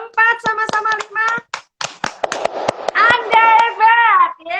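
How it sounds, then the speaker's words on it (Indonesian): Group of people performing the tepuk hebat rhythmic clapping routine in counted bursts of claps, interspersed with voices chanting along; loud and close, with a final flourish of sung calls at the end. "Tepuk hebat. 1, 2, 3, 4, sama-sama 5."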